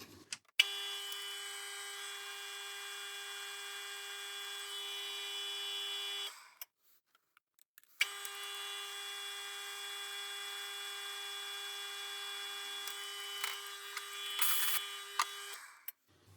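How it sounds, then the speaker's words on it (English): A hand tool cutting a chamfer on the crown of a BSA R12 air rifle barrel, giving two sustained steady whining tonal runs separated by a short pause, loud and close with no talking. "The last thing we'll do is put our chamfer on."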